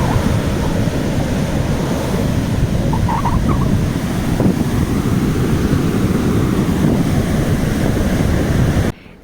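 A constant roar of sea surf and wind fills the clip, steady and loud, with waves churning close by and no voices.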